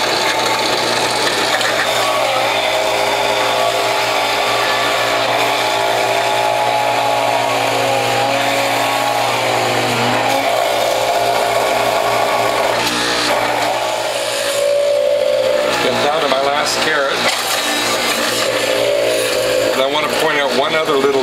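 A WHF juicer fitted with the 1/8 inch number 2 grid shreds carrots and vegetables with a loud, continuous grinding whir that runs unbroken, its tone shifting as produce feeds in.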